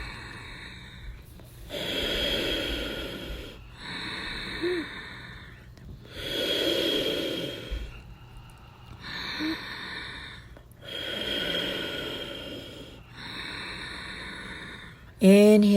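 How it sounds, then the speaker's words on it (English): Deep, audible breaths during Ashtanga yoga practice at home, a slow run of long inhales and exhales alternating in a steady rhythm, close and clear, with no speech. "Breathing."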